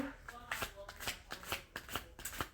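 Tarot cards being shuffled up close, a steady run of quick riffling flicks and soft slaps repeating in a brisk rhythm, with faint speech in the background.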